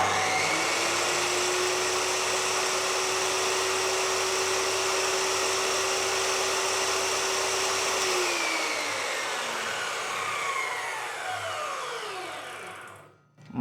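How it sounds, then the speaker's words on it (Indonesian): Dongcheng DMY02 circular saw running free with a loud, steady high whine for about eight seconds, then winding down to silence after the trigger is released. "Kita teskan seperti apa tenaga circular saw segede ini"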